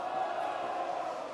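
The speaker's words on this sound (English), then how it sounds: "that round of applause and roar you can hear from the crowd" At a snooker tournament arena, the Xian Grand Prix 2024, a crowd at another table gives a brief, muffled burst of applause and roar, heard faintly from a distance.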